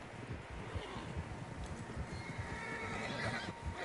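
Horses in Red Dead Redemption 2 whinny and snort amid soft hoof clops and a rustling outdoor wind, moderately close.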